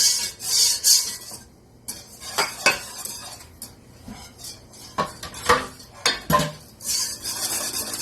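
A spoon scrapes and clanks steadily against a pot while a pastitsio sauce with milk is stirred, loud close metallic strokes in an irregular rhythm with brief pauses.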